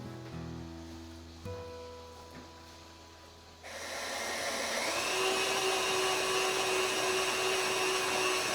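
An electric mixer whirs, first faintly under other kitchen noise and then loud and steady for several seconds as it beats pumpkin cookie dough.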